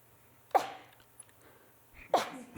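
Two sharp sneezes, close and loud, about a second and a half apart, with quiet room noise between them.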